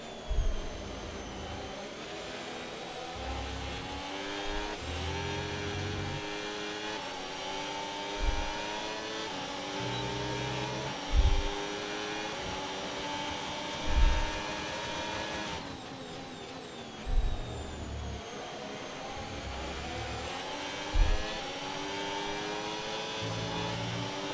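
F1 racing car engine in the F1 26 video game at Brazil, a continuous high whine rising and falling through gear changes, with periodic low thumps and shifts, fairly quiet and steady throughout with no speech.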